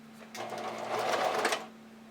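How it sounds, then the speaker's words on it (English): A serger runs in one short, close burst while overlocking a bra's seam allowance together, under a faint steady hum, with no talking. "I'm going to serge my seam allowance together and just press it to one side"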